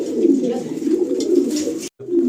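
Racing pigeons coo continuously in a loft in a low, throaty murmur, many birds overlapping close by, with a brief silent gap near the end.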